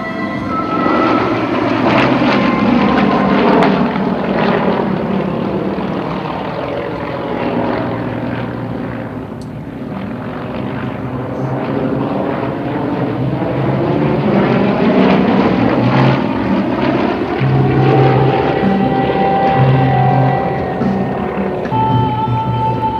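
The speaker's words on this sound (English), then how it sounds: "It's a very responsive and capable aerobatic aircraft" Yakovlev Yak-52 aerobatic propeller aircraft fly overhead in a massed display, a loud continuous radial-engine drone with shifting pitch as they pass and turn, sustained throughout.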